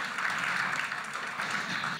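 Steady round of audience applause for a contestant at a competition finals event, dense even clapping from a crowd in a hall, moderately loud and sustained without pause.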